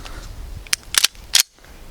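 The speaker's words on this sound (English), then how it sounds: "So let's shoot the EDC a little more." Sharp pistol shots from a Wilson Combat EDC X9 at a range: a single crack, then a quick double, then another close shot, loud and near with brief quiet gaps between.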